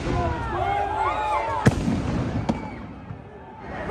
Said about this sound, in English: pro-Zionists who have literally set off fireworks